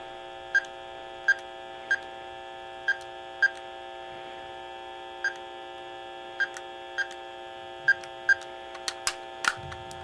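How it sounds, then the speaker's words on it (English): A handheld tone dialer sends a phone number as DTMF tones, about a dozen short, clear beeps spaced irregularly over a steady background hum. "I'm going to be using this tone dialer. I'm going to enter a phone number"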